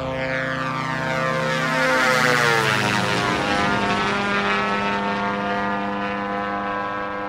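A Diamond DA62 propeller plane in X-Plane 11 takes off, its twin engines droning loud and steady with a rising, shifting pitch as it climbs, alone without talk.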